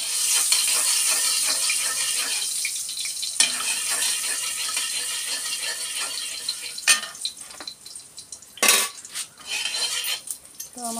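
Cumin seeds fry in oil in a pan with a steady bright sizzling hiss, overlaid by clinks and scrapes of a metal utensil stirring against the pan and a few sharp clatters near the end.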